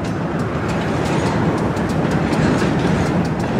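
A pair of B-36 diesel locomotives switches a rail yard, producing a loud, steady rumble with rhythmic clickety-clack of wheels rolling over rail joints close by.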